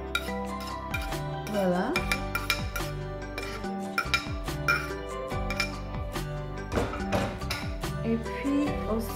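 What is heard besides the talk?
mixing vegetables and surimi batter in a bowl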